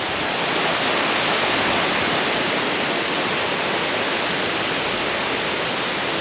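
Steady, dense rush of a waterfall in a nature area beside a temple on Koh Samui, loud and constant without any break.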